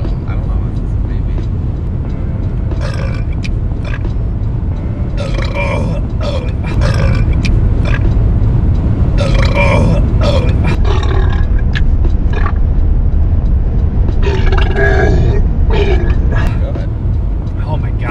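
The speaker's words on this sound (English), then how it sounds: "Sometimes I burp better if I'm eating something" A man forces out long, gravelly burps during a burping contest, several rasping bursts spaced across the stretch over a constant low rumble, with talking around them.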